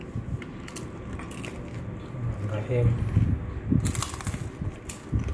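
Someone bites into crunchy Indonesian fried snacks (gorengan) up close, making crackling, crunching bites and chewing while people talk throughout.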